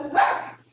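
A single short dog bark, loud and close, heard over an online meditation call, with a brief yip-like tail and no talking over it.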